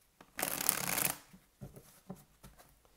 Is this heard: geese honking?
no